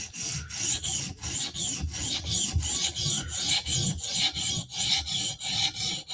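Rhythmic rasping strokes of a blade on a sharpening stone, about two per second, as a Spyderco Slysz Bowie knife gets a further sharpening pass; close and dry, with no talk.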